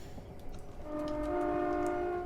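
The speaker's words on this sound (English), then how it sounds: "Just horn through the tunnel." A Class 465 Networker electric train in Train Simulator 2021 sounds its horn in a tunnel, a loud sustained two-tone blast over the rumble of the train.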